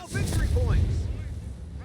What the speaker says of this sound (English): Blade fuse, high explosive barrage.